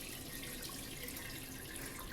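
Simmered chicken stock for noodle soup pours through a paper-towel-lined strainer in a steady, even rush of liquid that runs unbroken, with no one speaking.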